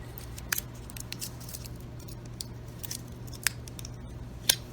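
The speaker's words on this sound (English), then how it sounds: "This particular packaging, you can't possibly get it apart on your own. You need to cut it." Scissors snip through a stiff plastic bubble pack holding a button cell battery for a Ford F150 key fob, with a few sharp isolated cuts spread across a quiet background hum.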